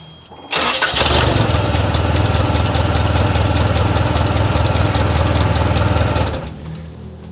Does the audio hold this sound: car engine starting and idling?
yes